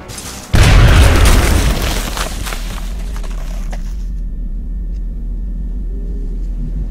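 A grenade blast in the turn-based strategy game XCOM: Enemy Unknown, a loud sudden boom with heavy low rumble that decays over a couple of seconds into a steady ambient drone.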